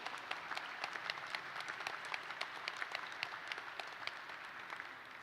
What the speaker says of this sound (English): if we could give just a phenomenal round of applause for Crystal.